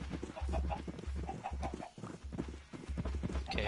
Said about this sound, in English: Come here, you chickens.